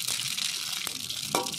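Dried red chillies, bay leaf and radhuni seeds sizzle in hot mustard oil for a bitter gourd and moong dal dish, a close, steady hiss broken by a few sharp crackles and spits.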